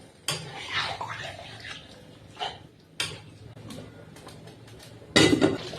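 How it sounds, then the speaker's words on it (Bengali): Water poured over chicken in a pot, then stirring and a lid set down, with scattered metallic clanks and scrapes between quiet gaps and a louder clatter at the end. "এর মধ্যে আমরা 1 কাপ জল অ্যাড করে দেব। তারপরে ভালোভাবে মিশিয়ে নেড়ে চেড়ে আমরা এটাকে ঢাকনা দিয়ে দেব।"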